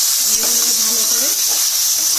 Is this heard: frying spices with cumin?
yes